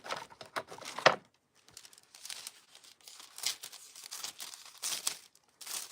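Aluminum foil crinkles and rustles in irregular bursts as scissors cut through it, with one sharp crackle near the start and soft patter following, close and quiet.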